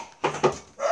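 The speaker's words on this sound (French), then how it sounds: "mes chiens s'amusent avec une bouteille" Dogs playing with a plastic bottle make a few short, sharp crinkling crunches in quick succession, close and clear.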